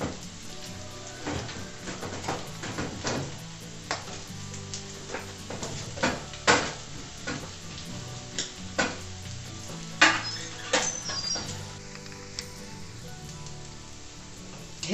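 Steady sizzling of meat and sausage frying in a plough-disc pan over a wood fire, with scattered clinks and scrapes of utensils against cookware; no voices.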